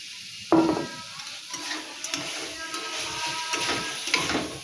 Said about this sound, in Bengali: এবার হচ্ছে যে ভাজা মাছটা দিয়ে দিব আমি।